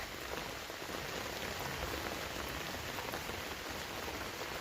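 Steady rain falls in a soft, even hiss over a village garden in autumn, faint and continuous with no voices.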